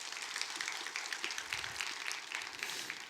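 Congregation applause at a Friday evening church worship service, a steady, dense patter of many hands clapping at once, fairly faint and continuous throughout with no talk over it.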